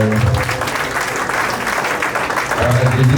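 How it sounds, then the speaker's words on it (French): A crowd at a 60th birthday celebration applauds loudly and continuously, with a steady wash of clapping, cheering and voices throughout. "Applaudissons d'abord le Seigneur"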